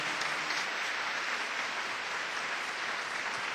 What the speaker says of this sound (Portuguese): Aplauda esse privilegiado que está do seu lado